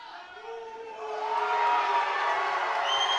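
Crowd cheering at a wrestling gala, a broad roar that swells loudly after a moment and keeps going, with whoops and shouts in it.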